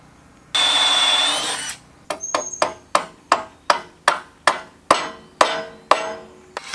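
A hammer taps carriage bolts into the wood of a vintage utility trailer, about a dozen sharp, evenly spaced strikes close by, preceded by a short burst of drilling.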